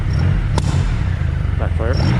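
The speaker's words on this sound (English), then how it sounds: "Backfire." A Triumph Rocket III motorcycle engine idles with a steady low rumble while its throttles are being synced, and a single sharp backfire pops out near the start; a voice briefly sounds near the end.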